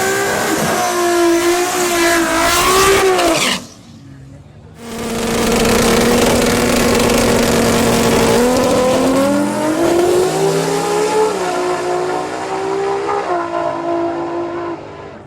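A turbocharged LS-swapped 1991 Sonoma truck and a 2JZ Supra drag race, engines screaming loudly close by with rising revs and gear shifts, broken by a short lull before both roar again.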